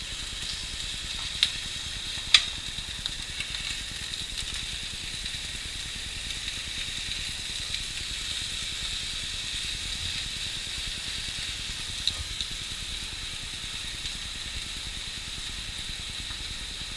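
Korean BBQ meat sizzles and fries steadily on a hot grill, a constant close hiss with a few faint clicks and pops, and no talking.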